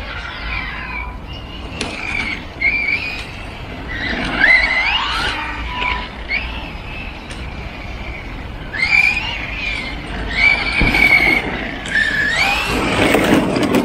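Small Reely RC car speeding along a track, its electric motor whining and tyres squealing in repeated rising bursts, close by and fairly loud over a busy background.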